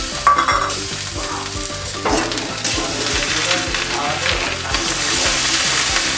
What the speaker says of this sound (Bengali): আদা বাটা দিয়ে দিলাম।